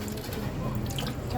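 Tap water runs steadily into a kitchen sink while cooking utensils are washed, a continuous close splashing flow throughout.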